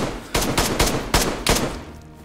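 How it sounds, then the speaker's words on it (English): Gunfire in the survival video game DayZ: four or five sharp, loud shots in a quick uneven burst over about a second and a half, then a brief fading tail, with no talk. "Those gunshots, do you hear them?"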